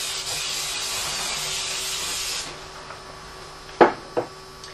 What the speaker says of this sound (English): First I'm going to spray the bowl.